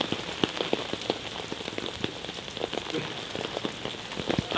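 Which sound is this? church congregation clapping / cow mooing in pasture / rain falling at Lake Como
rain falling at Lake Como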